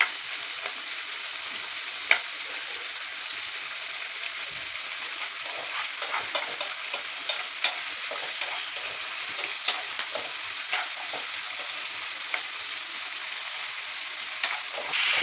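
Chutney ingredients sauté in a pan with curry leaves and drumstick leaves, giving a steady, close sizzle and crackle throughout, broken by light stirring clicks and scrapes, with no talking.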